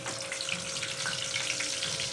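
Finely chopped onion hits hot oil for a tempering of fried soya chunk wadi, giving a steady, even sizzle that carries on without pause, close by and fairly quiet.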